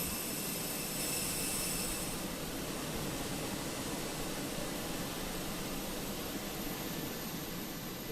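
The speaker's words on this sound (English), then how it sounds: "Let's go ahead and start up engine 1." Airbus A319 engine 1 spooling up in a flight simulator: a steady, loud, broadband jet roar with a high whine on top, continuous throughout with no talk.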